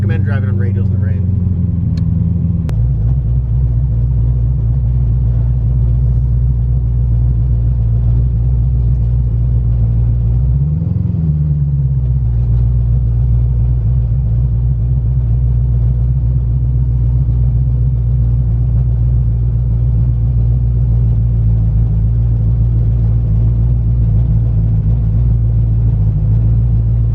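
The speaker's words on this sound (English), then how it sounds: "I don't recommend driving on radials in the rain." A 1200 HP car on drag radials drives through the rain, its engine rumbling loud and low in a steady cruise with one brief rev swell midway, while a person talks over it.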